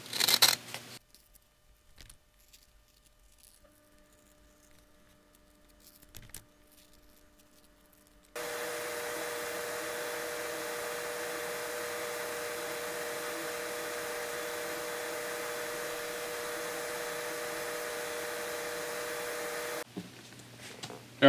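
Edges of a leather pancake knife sheath sanded on a benchtop sander: after a few quiet handling clicks, a steady motor whine with rough abrasive grinding holds for about twelve seconds, then cuts off.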